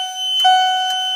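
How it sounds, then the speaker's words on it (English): A Wheelock CH70 chime strobe fire alarm on a Mircom fire alarm panel test gives a loud, steady electronic chime tone, close and sustained with a brief pulse in the middle. "this is a Wheelock CH70 chime strobe"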